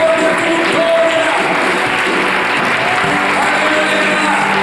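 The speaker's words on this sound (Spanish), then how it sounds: "Dale fuertes aplausos a Jesús en esta hora." A church congregation claps loudly during a worship service, a dense, continuous burst of applause with voices and faint musical tones mixed underneath.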